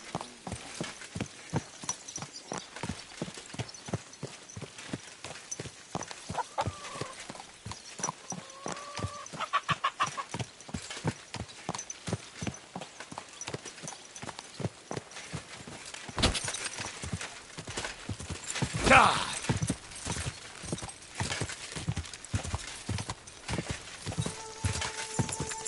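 Horse hooves clip-clop in a steady walking rhythm through the medieval game Kingdom Come Deliverance 2, continuous and fairly close, with faint farm-animal ambience and a brief louder rustle near the end.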